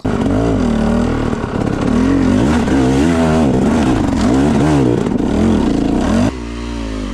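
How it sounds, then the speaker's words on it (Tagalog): A Yamaha YZ250FX dirt bike engine revs and roars continuously riding downhill on a trail, rising and falling in pitch, close and loud, then drops abruptly to a lower idle near the end. "Downhill, si Mick TV, first time mag downhill, walang babaan ng motor."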